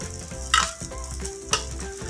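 Red-sauce fried rice with egg being stir-fried in a pan, the sizzle steady and close, with two sharp scraping clatters of a spatula against the metal and no one speaking.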